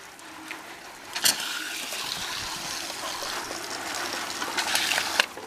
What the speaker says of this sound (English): let's go and water my poor babies that's in desperate need of watering